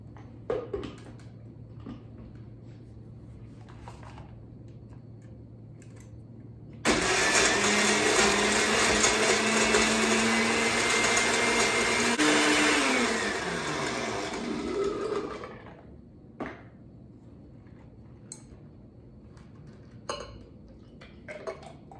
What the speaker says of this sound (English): We're going to go ahead and blend that up.